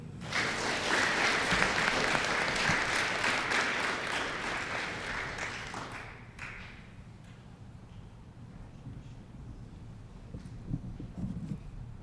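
A school audience at an eighth-grade promotion ceremony claps in a dense round of applause that fades out after about six seconds, leaving quiet room noise with a few scattered taps.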